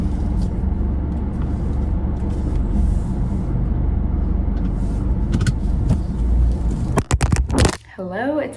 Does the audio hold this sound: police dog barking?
no